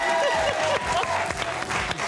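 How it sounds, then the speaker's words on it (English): Studio audience on a morning TV show claps loudly and close, a thick burst of hands with whoops and a host's voice cutting through the applause. "Give him a round of applause."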